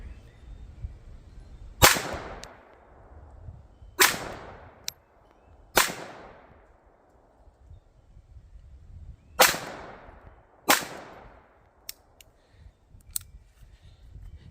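A Taurus PT22 pistol fires CCI Mini Mag rounds in about eight sharp, loud cracks, spaced irregularly with short decaying tails between them and no talking.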